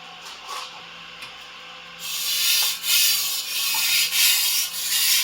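An antique Dufrense and Co. chef knife drawn across a whetstone, repeated hissing rubbing strokes that start softer then grow louder and rhythmic, close and alone.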